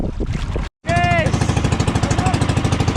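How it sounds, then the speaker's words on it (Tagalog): A boat engine on a fishing trip sputters, cuts out briefly, then catches and runs with a loud, steady rhythmic chugging pulse, with excited voices and cheering over it. "Kumandar na rin yung makina namin."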